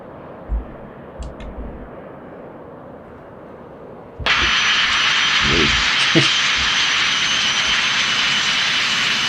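An Eclipse 550 jet taxis in X-Plane 11. Quiet at first, it swells into a loud, sustained engine roar that holds steady to the end, with a few faint thumps mixed in.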